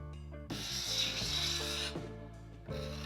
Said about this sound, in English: So I'm sanding back the top to bare wood, scraping back in places,